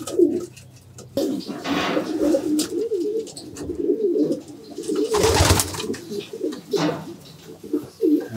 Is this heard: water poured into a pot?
no